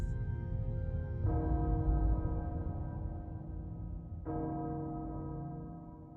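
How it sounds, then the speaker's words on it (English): A castle bell tolls in the Resident Evil video game, two deep, resonant strikes a few seconds apart, each ringing out and slowly decaying over a low rumbling ambient bed. "The bell tolls for us all."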